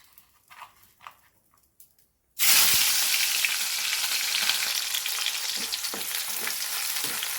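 Sliced potatoes dropped into hot oil with chillies, onions and curry leaves, a quiet pause with faint knocks then a sudden loud burst of sizzling that settles into a steady fry with light stirring, no talking.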